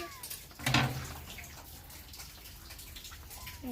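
Small kittens give thin, rising meows, a couple near the start and another pair toward the end, with a brief splashing rustle early on.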